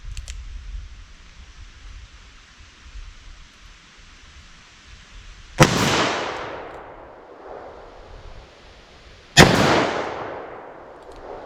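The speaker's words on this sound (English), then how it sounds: "All right, 44 mag now with the revolver." Two sharp, loud .44 Magnum single-action revolver shots fired outdoors several seconds apart, each cracking suddenly and trailing off into a long rolling echo over quiet background hiss.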